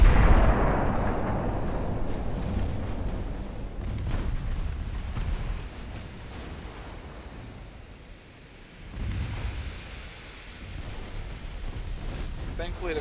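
Naval gunfire and shell impacts in Ultimate Admiral Dreadnoughts, deep booming blasts and rumbling explosions rolling on continuously with a renewed surge of booms partway through, while someone talks faintly beneath.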